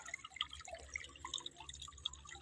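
Rainwater overflowing from a rice field after rain makes a soft, close trickle with scattered drips and gurgles, faint and continuous.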